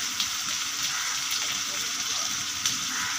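Onions sizzle and crackle steadily in hot mustard oil with salt, a continuous close frying hiss with a few faint stirring clicks.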